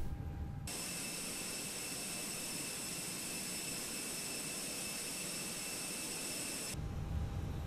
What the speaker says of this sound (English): And the engine will spool down.